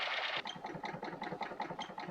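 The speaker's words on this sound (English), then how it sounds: "without the right fuel, it makes a knocking sound." A high-compression petrol engine knocks when run without the right fuel: a faint, regular train of rapid metallic taps, about nine in quick succession after a short louder burst.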